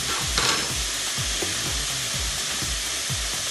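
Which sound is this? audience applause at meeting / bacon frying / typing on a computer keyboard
bacon frying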